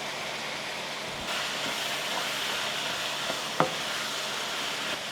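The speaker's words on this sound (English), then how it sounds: "we're going to add in our peppers and onions, along with our garlic" Peppers, onions and garlic hit a hot pan of browned ground lamb with a steady, even sizzle, a brief clink of utensil partway through.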